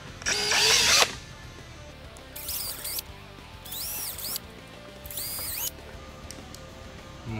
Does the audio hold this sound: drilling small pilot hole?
yes